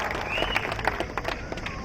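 A crowd at an MP election campaign rally claps for a candidate, a brief patter of applause that sounds somewhat distant, with murmuring voices underneath.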